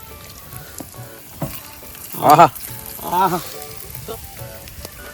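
Quail pieces frying in hot oil at a Kerala roadside-style stall, a steady close crackling sizzle throughout, with a voice briefly exclaiming in delight over it.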